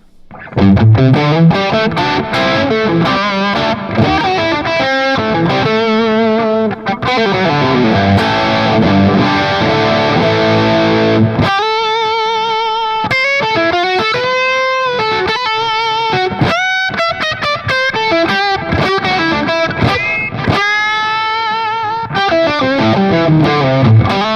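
Electric guitar through a REVV D40 Dynamis amp with light delay, playing loud, sustained distorted chords and ringing melodic lines nonstop, with the repeats trailing each note.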